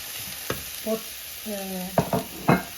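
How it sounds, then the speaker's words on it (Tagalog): Sliced bell pepper and courgette fry in a pan for pan-fried salmon with vegetables, a light sizzle broken by a few sharp utensil knocks and short squeaky scrapes as the vegetables are stirred. "sunod na natin ang ating bell pepper at saka ang ating courgette. Lutuin lang natin siya guys ng 10 to 12 minutes."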